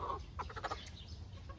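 A chicken clucks in a few short, close bursts in a home courtyard before being slaughtered for a Dashain festival ritual, over steady low background noise with no talk.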